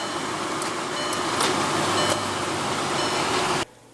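A 2015 Volkswagen Passat with a 1.8L turbo four-cylinder running steadily after startup, a loud even engine drone and hum that cuts off abruptly near the end.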